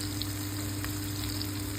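Sardines fry in hot oil in a pan, giving a loud, continuous sizzle and crackle with a faint steady hum underneath and no talk over it.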